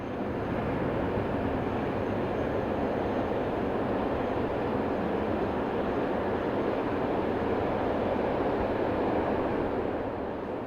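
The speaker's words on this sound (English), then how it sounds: "The locomotive heads a southbound coal train across the bridge that takes the line over the river Rhur." A diesel locomotive hauls a southbound coal train over a river bridge on the Ruhr, giving a steady, continuous rumble and rolling wagon noise at moderate distance, with no voices.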